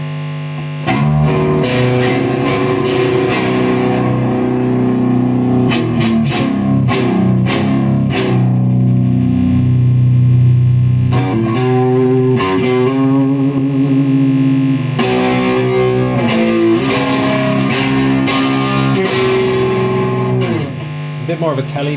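Distorted electric guitar, a Godin SDXT, plays chords and picked notes, loud and sustained with some reverb, running steadily throughout.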